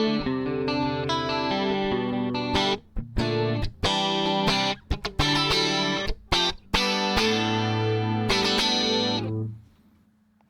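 An electric guitar through an 80s-style clean amp tone with a shimmering chorus effect plays a lively run of strummed chords and short stabs, then fades out near the end.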